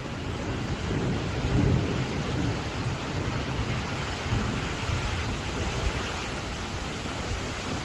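A storm roars steadily with a low rumble of thunder and dense rain-like noise, broad and continuous throughout with no voices.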